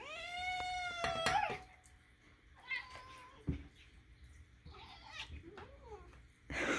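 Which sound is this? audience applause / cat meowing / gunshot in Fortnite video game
cat meowing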